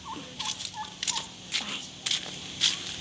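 A turkey gobbles in a series of quick, warbling calls, close and fairly loud, repeated several times in irregular bursts outdoors after rain.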